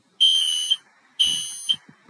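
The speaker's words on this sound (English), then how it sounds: "Oh, we have a fire alarm going off." Two bursts of a smoke-detector fire alarm, each a loud, steady high-pitched electronic beep of about half a second, roughly a second apart, with faint room noise and a soft knock after the second burst.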